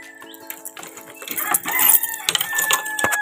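A Rhode Island Red rooster crows loudly and close, a long drawn-out call over clucking and wing flaps from other fowl nearby, with no talking.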